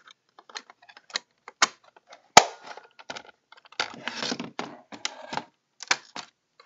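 Plastic battery compartment of a toy cassette recorder snapping shut, a quiet scatter of small clicks and taps with one sharp snap near the middle, close by and alone.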